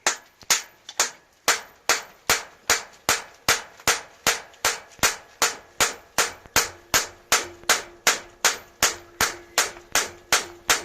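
Sharp metallic bangs from hammering on a Honda CB250RS motorcycle exhaust ring out in a steady, fast rhythm, over twenty strikes in a row, each one loud and close with a brief ringing decay.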